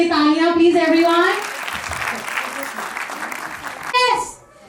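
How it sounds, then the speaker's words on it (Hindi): A voice speaks over a microphone at a school annual function, then a crowd breaks into steady applause that fades out, with another short call heard near the end. "रियांश के लिए तालियां प्लीज एवरीवन."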